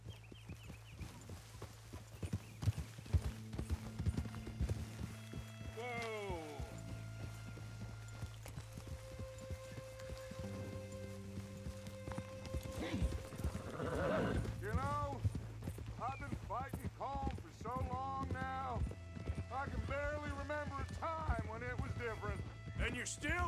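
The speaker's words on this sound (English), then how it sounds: "Mount up then, Morgan. Giddy up" Horse hooves clip-clopping at a riding pace in the Red Dead Redemption 2 video game, a steady rhythmic trot running throughout under frequent talking and a low droning music bed.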